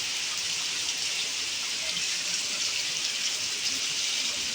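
Heavy rain pours steadily in Gujarat as a dense, even hiss of water with no break and no voices.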